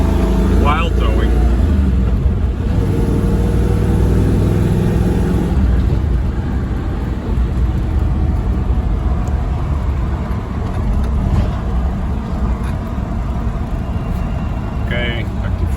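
A Chevy V8-swapped Range Rover with its final exhaust setup accelerates in third gear at low RPM while towing, a deep steady engine rumble running throughout beneath someone talking.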